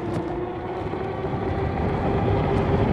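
A Cio Way Predator in dual drive pulling away, a low rumbling motor drone with a steady hum that swells slightly, close and continuous with no talk.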